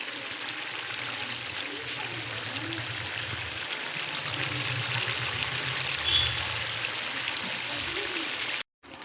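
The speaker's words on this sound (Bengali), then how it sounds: "এখন একটু জলটা গরম করে এই গরম জলটা এর মধ্যে ঢেলে দেবো" Hot water poured into a pot of simmering mutton curry, a steady hissing, bubbling stream over the low sizzle of the pot, close and continuous before cutting off abruptly near the end.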